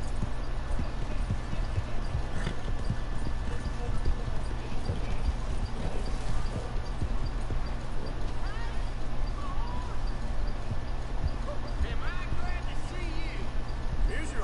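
Steady clip-clop of a stolen horse's hooves in Red Dead Redemption 2, rhythmic and continuous over a low rumble, with faint other game sounds around it.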